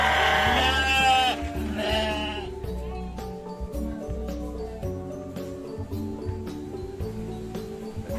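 Sheep on a livestock farm raising sheep and beef cattle bleat loudly up close, with a wavering cry at the start and more bleats over steady background music.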